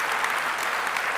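A church congregation applauding: dense, sustained clapping from many hands, loud and even throughout, with no pauses or voices standing out.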